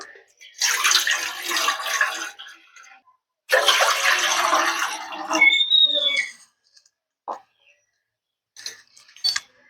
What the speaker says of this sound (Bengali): আর এদিকে গ্যাসে একটা সসপ্যান বসিয়েছি দিয়ে দেব জল